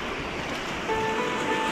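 Steady ocean waves wash onto the shore at Pink Beach, a continuous broad roar of surf with some wind across the microphone and a faint tonal hum partway through.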